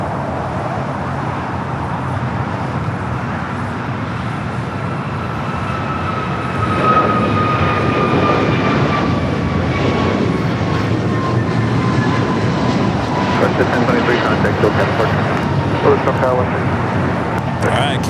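A KLM jet takes off from runway 24 left at LAX, its engine roar rising and swelling midway and holding loud over a distant rumble, with voices talking throughout.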